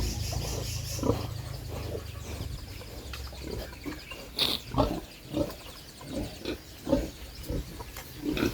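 A pig grunts repeatedly in short low snorts, about a dozen uneven bursts over several seconds, close by with faint background noise and no talk.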